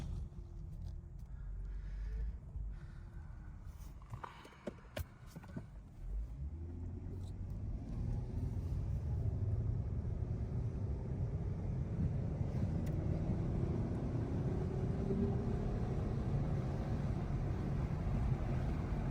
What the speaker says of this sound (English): we're in the Charger. We're going for a quick test drive.